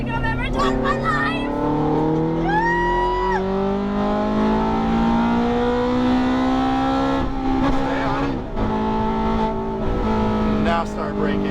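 Ferrari F430 F1 engine accelerating hard on a racetrack, a loud steady high-revving tone that climbs in pitch, shifts, and pulls on under excited voices from inside the car.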